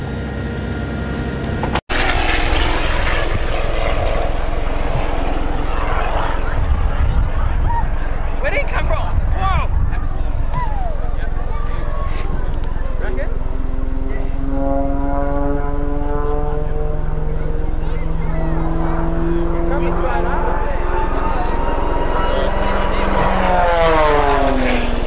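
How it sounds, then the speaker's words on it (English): A yellow Tiger Moth stunt biplane flies over the Manning River at a racing event, its propeller engine droning loudly and shifting in pitch as it passes close and banks, with continuous engine noise throughout. "in his Tiger Moth yellow stunt plane"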